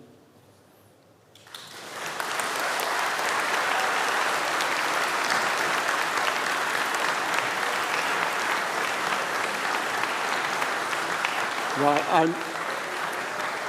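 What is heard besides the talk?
graduation audience applause and cheering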